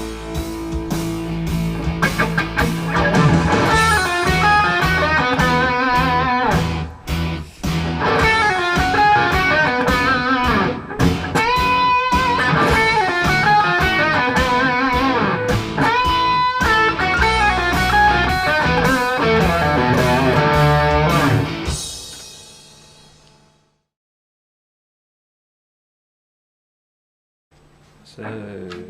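A distorted electric guitar plays a blues rock lick in B over a full backing track, a busy stretch of bends and runs that stops abruptly before a short silence and a faint return of sound.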